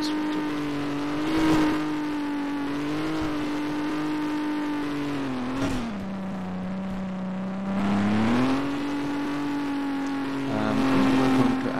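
An ACF car in Garry's Mod driving in first gear, its engine a steady buzzing drone that dips in pitch and then climbs again as it revs, with short whooshing swells along the way.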